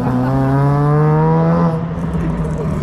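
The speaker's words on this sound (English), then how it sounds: "Oh yes, hit VTEC." A Japanese car at a large car meet revs hard into VTEC, a loud rising engine wail with strong harmonics that climbs for over a second and a half, then drops away into rumbling crowd noise with voices nearby.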